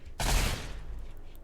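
A single short burst of SMG fire in the RimWorld video game, a quick loud crack with rapid shots blurring together, then fading into quiet background ambience.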